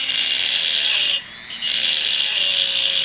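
A saw blade grinds through an amethyst crystal with a steady, bright, hissing rasp, close and loud, pausing briefly for a moment before resuming.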